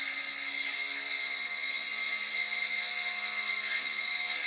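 A steady, high-pitched whir from a fast-spinning sphere, like a small motor or airplane, holds constant and fairly close with no voices.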